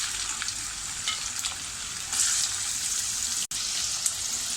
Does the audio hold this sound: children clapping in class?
no